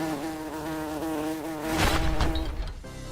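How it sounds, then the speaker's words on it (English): A bee in the Minecraft video game gives a steady, close, droning buzz that holds on an even pitch. A rougher burst of noise near the end partly masks it, and no one talks. "Oh, the bee!"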